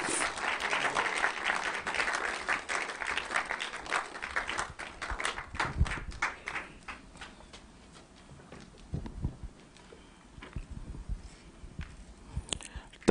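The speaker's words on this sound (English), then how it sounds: "A round of applause." A seated audience applauds as a police commander, ACP, is welcomed to the podium at a media forum. Moderate clapping starts fairly full, then thins into scattered individual claps and a few louder thumps, heard close.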